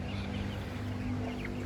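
Rhode Island Red chickens in a backyard flock cluck softly and continuously, a low steady murmur of fowl sounds with a constant hum underneath.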